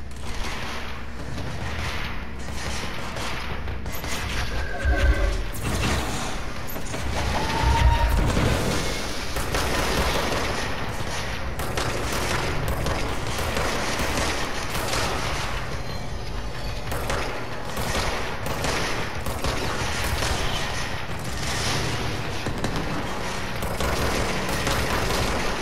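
Gunfire rattles through a firefight in the video game Control, dense sustained volleys and scattered sharp shots with occasional heavier booms, steady and fairly loud throughout.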